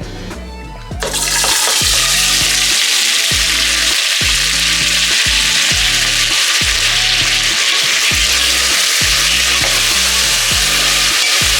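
Mixed vegetables, potato, peas and field beans, shallow frying in oil for a kurma: a loud, steady hiss and sizzle that bursts in after a second and continues without pause, with faint rhythmic scraping underneath.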